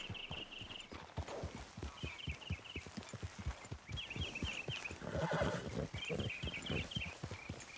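Steady clip-clop of horse hooves at a walking pace in the video game Red Dead Redemption 2, with several high whinnies breaking through near the start, middle and end.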